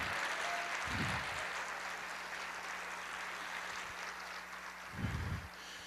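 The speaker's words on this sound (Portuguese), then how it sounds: "Pode aplaudir." Church congregation applauding during a service: a steady wash of many hands clapping at moderate volume, with a low rumble of handling or wind noise now and then.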